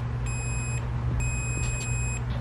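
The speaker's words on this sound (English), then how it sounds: "when the two leads touch, makes a beeping sound" Two short high-pitched electronic beeps from a multimeter continuity test on car door speaker wiring, each lasting about half a second, sound clearly over a low steady background hum.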